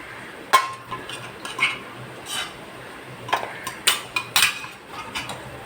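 Cooked mutton pieces are scooped from a pot into a bowl, producing a few sparse metallic clinks and scrapes of a spoon against the vessels, close by, with no talking.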